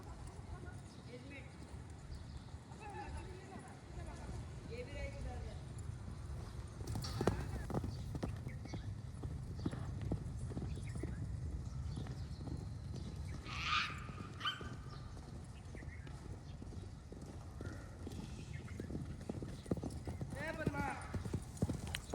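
Free-roaming horses trot with steady clip-clopping hooves throughout, moderately close, under continuous talk and a low background rumble, with an occasional brief whinny.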